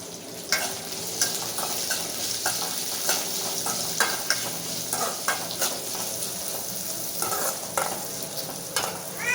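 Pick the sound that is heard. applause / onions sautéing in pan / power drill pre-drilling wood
onions sautéing in pan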